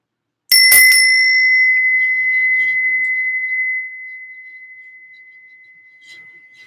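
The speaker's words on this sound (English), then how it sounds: "you're gonna maybe ring the bell" A small bell struck once during a full moon ceremony, a bright, clear ring with a sharp attack that sustains as a pure, fading tone for several seconds in a quiet room.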